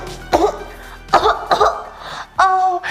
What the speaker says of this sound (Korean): 이렇게 기침을 하면 굉장히 민폐가 되는